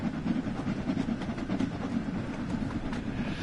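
Steam locomotive on the Brighton main line in Train Sim World 2, running with a steady rumbling chuff and rail clatter, a continuous moderately loud rolling sound with no talk.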